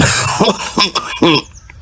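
A cartoon character coughs three times in quick succession, harsh and throaty, loud and close, with a brief quiet tail afterward.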